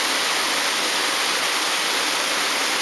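Water flows steadily in the river below a small hydropower plant's intake, a dense, even rushing roar with no break or change from start to finish.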